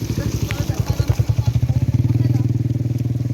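A motorcycle passes close by on an island road, its engine pulsing in rapid, regular low throbs that quicken and grow louder toward the end, with voices faintly underneath.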